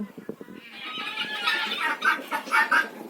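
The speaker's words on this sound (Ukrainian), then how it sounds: "Це вийшли на двір разом з курочками добре" Hens clucking outdoors in a sunny farmyard, a steady run of overlapping clucks and calls at moderate distance, with some low thumps and handling noise at the start.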